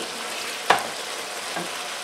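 Ground chicken with cilantro sizzling steadily in a pan, a continuous close hiss with one brief clink of a utensil partway through, no voices.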